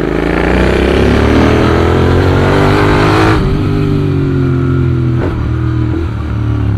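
A Royal Enfield Interceptor 650 motorcycle rides past with a loud, continuous engine drone, its pitch rising under acceleration and then dropping slightly after a gear change.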